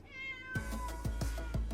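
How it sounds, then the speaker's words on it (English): A cat meows in the next room, a brief rising cry followed by a few softer repeated meows, muffled by distance under a steady low room hum. "hello to my kitty in the next room"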